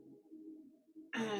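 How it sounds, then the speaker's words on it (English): A slow, deep breath drawn in during a guided spiritual meditation, a soft, close airy inhale lasting about a second before a voice begins speaking. "You take another deep breath in"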